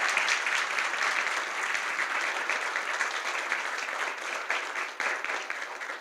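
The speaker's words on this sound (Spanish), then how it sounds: "Les voy a pedir que le demos un fuerte aplauso a los penalistas." An audience at a panel event on talent management applauds the panelists, with dense, steady clapping filling the room for the whole stretch at moderate distance and no voices standing out.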